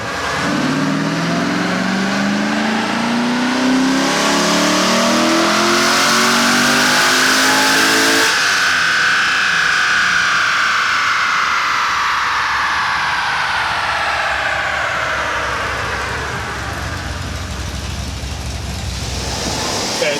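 A Corvette C6 Z06 with new heads, cam and intake roars through a dyno pull, its engine climbing loudly in pitch, peaking, then dropping back to a lower drone, close and steady the whole way.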